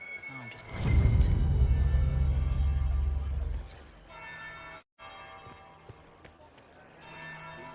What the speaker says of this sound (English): Third bell.